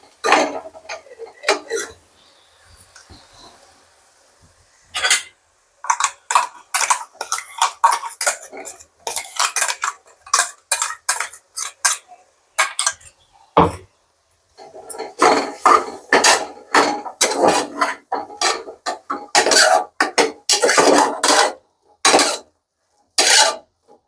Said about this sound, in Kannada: ಈಗ ನಾವು ರುಬ್ಬಿಟ್ಕೊಂಡಿದ್ವಲ್ಲ ಮಸಾಲೆ, ಇದನ್ನ ಹಾಕೋತಾ ಇದ್ದೀನಿ.